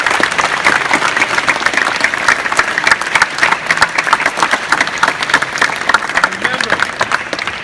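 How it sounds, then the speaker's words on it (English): A crowd of campers at a basketball camp gives a loud, sustained round of applause for the camp staff, dense clapping filling the whole stretch with a few voices mixed in. "I want you to give a round of applause to our staff."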